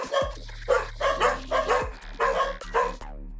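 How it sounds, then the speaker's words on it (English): Several dogs bark in bursts of loud, close woofs and yips over a low steady electronic hum, ending with a rapid falling stutter of sound. "Honestly, dogs."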